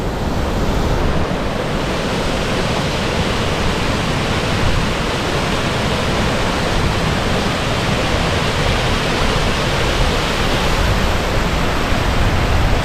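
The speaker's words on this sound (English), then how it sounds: "massive gushes of wind keep blowing through as well because we're in the valley really" Strong gusts of wind roar through a Welsh valley near Cwmorthin waterfall, a loud, unbroken broadband rush buffeting the microphone throughout, with no voices.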